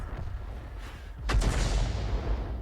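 A self-propelled artillery gun fires a single heavy round in a tank video game, a sharp loud boom that rolls into a long rumbling decay over steady low background noise.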